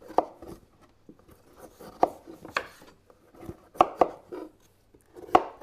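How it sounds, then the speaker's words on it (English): A knife trims the dark green edge off broccoli on a chopping board, with a series of crisp, close cuts and taps striking the board at irregular intervals, separated by quiet scraping strokes. "just run your knife down the edge of your broccoli to take that dark green bit off"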